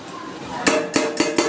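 A metal lid comes off a cooking pot on a gas stove where prawns and kochur loti simmer, with four sharp, close clanks of metal on metal in quick succession.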